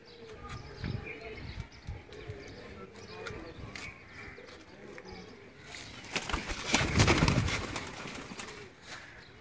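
Dubai-breed pigeons coo and shuffle close by in a loft, soft cooing mixed with brief wing flutters and scattered clatter, with a louder flurry near the end and some faint background noise.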